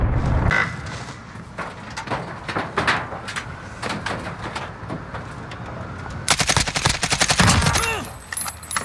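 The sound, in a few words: AK-47 gunfire in a video game, Search and Destroy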